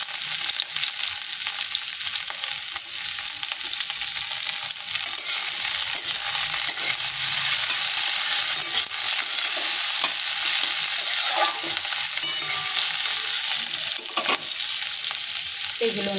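Tomatoes and green chillies fry and crackle steadily in a pan with onions, stirred continuously with scraping utensil sounds over a constant sizzle throughout.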